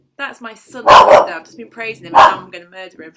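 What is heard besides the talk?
dog barking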